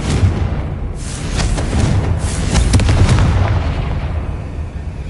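A sustained rumbling blast from the Confringo fire explosion spell in Hogwarts Legacy, a dense roaring burst with crackling pops layered through it that swells mid-way and slowly fades.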